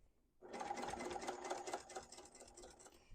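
A sewing machine stitching a quarter-inch seam on a quilted tote bag, starting after a brief pause and running as a fast, steady mechanical whir for about three seconds, close and alone.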